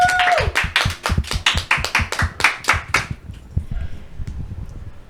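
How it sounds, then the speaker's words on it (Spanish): A small group claps to open a faith talk program, a burst of fairly close, brisk hand claps that thins out and fades after about three seconds. "te pido que nos regales un fuerte aplauso para dar inicio"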